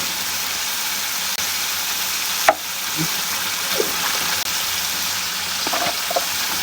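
Fish kofta curry sizzles steadily in a pan after a spoonful of ghee goes in, a constant close frying hiss with a few soft stirring clicks and bubbling pops and no talk.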